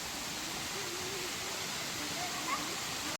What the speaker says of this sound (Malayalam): നല്ല ഉയരത്തുനിന്നാട്ടെ ഈ വെള്ളം ചാടുന്നത്.